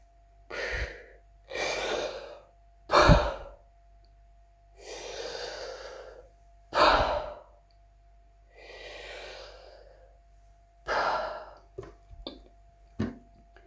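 Slow, deep human breaths during apnea breath-hold training: long drawn inhales and exhales with a few gasps, close and distinct, separated by quiet pauses, ending in a cluster of short sharp breaths.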